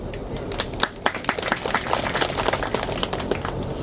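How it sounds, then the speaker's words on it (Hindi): Clapping from a crowd at a political rally in Jhabua, crisp, close handclaps forming a busy, uneven patter that runs for a few seconds without speech. "ये जो तालियां बज रही है ना"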